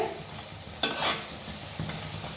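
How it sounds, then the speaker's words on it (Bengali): Khaja pastries deep-frying in hot oil, a steady low sizzle broken by one sharp splash-like burst midway and a smaller knock later, with no voices. "খাজাগুলোকে ভেজে নেব এক পিঠ হয়ে গেলে আবার উল্টিয়ে দেবো আর এক পিঠটাও ভেজে নেব"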